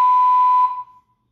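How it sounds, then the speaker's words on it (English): A building fire alarm goes off during its monthly test: one loud, steady electronic beep holds for roughly two-thirds of a second, then quickly dies away into silence. "They are doing the monthly fire alarm testing."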